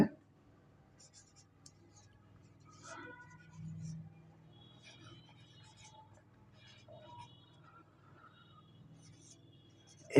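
A pen writing on paper during a math lesson, quiet scratchy strokes coming in short bursts, faint and close, with soft speech around them.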